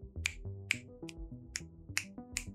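Several crisp finger snaps, about six, spaced irregularly across a couple of seconds, each a sharp close click set over a background of quiet musical tones.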